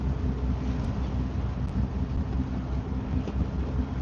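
Stiff wind roars and buffets steadily across the microphone during boat docking on a bay, a constant dense rush with a low engine-like rumble underneath and no voices.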